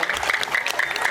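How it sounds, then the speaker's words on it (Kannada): Audience clapping at a school annual day celebration, a dense steady patter of many hands, close and continuous for a brief moment with no other sound. "ಒಂದು ದೊಡ್ಡ ಚಪ್ಪಾಳೆಯೊಂದಿಗೆ ಅವರನ್ನು ಸ್ವೀಕರಿಸೋಣ."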